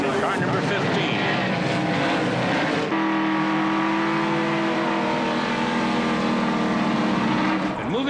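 Stock race cars roar at the start of the All-Pro 300 on a mile-and-a-half speedway, a loud continuous engine drone that shifts in pitch as the field passes, with a commentator talking over it.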